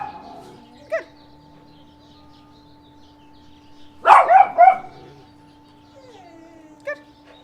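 Several dogs bark close by in a short, loud cluster of yips and barks, with a single sharper bark before it and another after, against a steady background hum.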